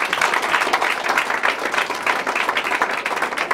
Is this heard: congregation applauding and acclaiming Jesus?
yes